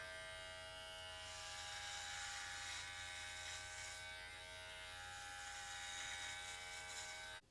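Novah hair clippers buzz on their first setting while trimming hair, a steady close electric hum with bright harmonic whine, holding evenly for about seven seconds before cutting off sharply at the end.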